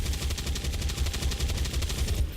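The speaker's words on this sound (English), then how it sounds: "flank and fire on one of the stun lancers" Gunfire in the XCOM video game, a sustained rapid burst of automatic shots in an even pulsing rhythm, steady and moderately loud with no speech.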